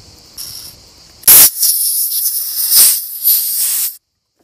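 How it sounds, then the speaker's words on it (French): Compressed air blow gun spraying to clear metal filings from a Peugeot 307 cylinder head after thread repair, a hard hissing burst that starts abruptly, followed by a few seconds of steady, fluctuating blowing that cuts off cleanly. "Soufflette ou aspirateur, c'est pareil."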